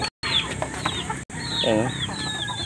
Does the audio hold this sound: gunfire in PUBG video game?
no